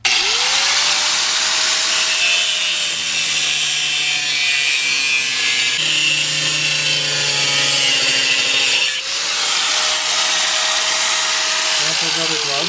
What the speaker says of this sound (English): You want to record your grinding?